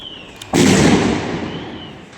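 A single loud firecracker blast erupts at the Valencia Fallas festival, a sharp close burst followed by a long rumbling decay, with a faint tone audible before and after.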